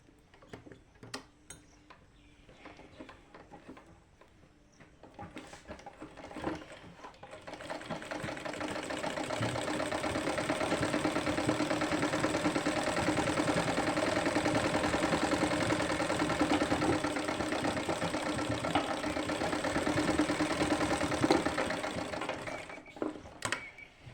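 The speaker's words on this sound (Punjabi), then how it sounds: "ਇਸ ਤਰ੍ਹਾਂ ਕੱਟਣ ਤੋਂ ਬਾਅਦ ਇਹਨੂੰ ਇਸ ਤਰ੍ਹਾਂ ਕਰਕੇ ਇਹਦੇ ਉੱਪਰ ਫੇਰ ਸਲਾਈ ਲਗਾਉਣੀ ਹੈ" A sewing machine stitches joint lace onto cloth. A few scattered mechanical clicks come first, then a steady, close, rapid whirring run lasts most of the stretch before easing off near the end, with no talking.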